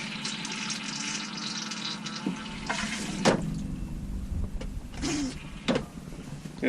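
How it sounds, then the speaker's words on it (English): A toilet in an RV travel trailer being flushed during winterizing, a rushing water burst with gurgling and a few clunks, close by and moderately loud, with brief speech. "So flush the toilet until you see pink."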